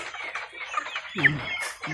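Rhode Island chickens cluck nearby in a free-range yard, a series of short, close clucks and calls, with a voice speaking faintly in the background.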